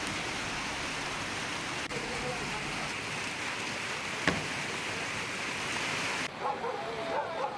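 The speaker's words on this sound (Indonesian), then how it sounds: "Arus deras langsung menghantam permukiman warga di Kecamatan Tuka" Rushing floodwater from a flash flood surges through a residential area in Tuka district, Tapanuli Tengah, a dense continuous roar of turbulent water with a few sharp knocks, steady throughout before dropping off near the end.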